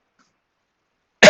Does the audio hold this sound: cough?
yes